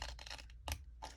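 Scissors cutting through a paper sewing pattern, with short crisp scratching snips in bursts and a pause between them, close and fairly quiet.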